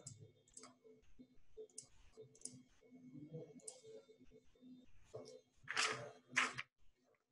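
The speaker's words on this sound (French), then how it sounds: "Et je clique en appliquer." Soft computer mouse clicks made while working in CGM Oxygen software, with a few sharper louder clicks near the end and a person speaking quietly underneath.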